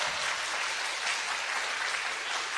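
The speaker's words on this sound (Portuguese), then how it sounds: "Palmas para ele, vai!" A church congregation bursts into steady, dense applause, a continuous wash of many hands clapping that carries evenly from start to finish without any talking over it.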